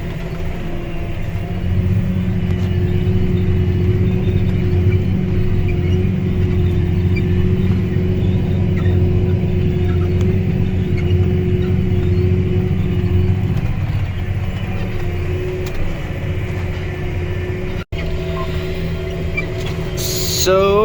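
A tractor pulls a chisel plow across a 10-acre field for sugar beet ground, its engine holding a loud, steady, close rumble throughout, with one brief sharp dropout near the end.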